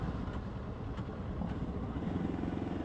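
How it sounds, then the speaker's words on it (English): A steady motorcycle engine running with a rough, rumbling drone that rises slightly toward the end, close by and constant throughout. "you'll be able to hear the bike change in noise because of the revs"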